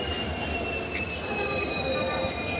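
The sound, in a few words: train pulled by WDP4 diesel locomotive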